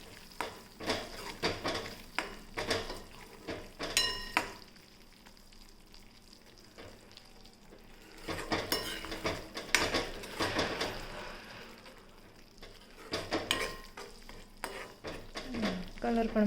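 Chilli and salt being mixed in a pan: scraping, clinking spoon strokes against the metal come in uneven bursts over a low background, fairly quiet and close, with no talking.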